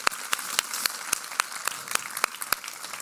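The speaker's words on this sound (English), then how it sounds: "please just a round of applause to them as well for their hard work today." An audience at a live FSWeekend show gives a round of applause: loose, sparse claps with about a dozen sharp, evenly spaced louder claps standing out, close and steady throughout, with no talk.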